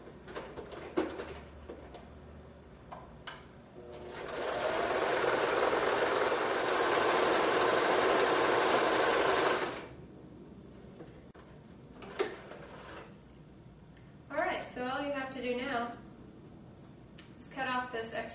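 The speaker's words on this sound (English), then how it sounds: "Now that I know where I want my hem to be, I'm going to sew it, starting about an inch from the bottom." A sewing machine runs steadily for about five seconds while stitching the hem of a homemade Renaissance-style skirt, loud and close, with quiet talk around it.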